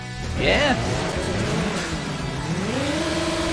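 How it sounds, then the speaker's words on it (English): A car engine in Need for Speed: Underground revs up and down during a circuit race, the whining pitch rising and falling over a steady motor drone, loud and close. "the car sounds are friggin' loud"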